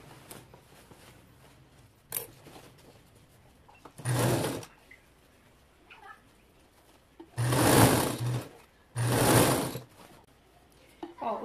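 A sewing machine stitches a skirt seam in three loud bursts of rapid whirring, the longest run in the middle, with someone talking quietly in between.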